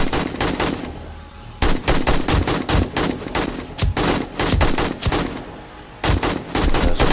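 Rapid automatic gunfire in the survival game 7 Days to Die, loud dense bursts of shots in quick succession broken by two short pauses, with no talk.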